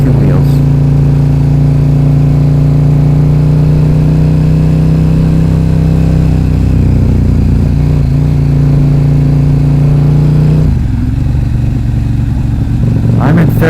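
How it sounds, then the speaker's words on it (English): A 2011 KTM RC8R sport motorcycle fitted with an Akrapovic exhaust cruises steadily in third gear, its engine holding a smooth, constant drone with a slight shift in tone near the end. "I'm in third right now, poodling. And the bike's pretty smooth."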